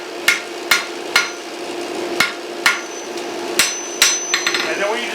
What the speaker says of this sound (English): I like to use the end of the horn of my anvil and just kind of strike over here